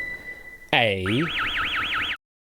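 A quiz show buzzer on a televised quiz programme sounds loud and sudden: a descending springy boing tone followed by a warbling electronic siren-like note that runs for about a second and a half, then cuts off into silence.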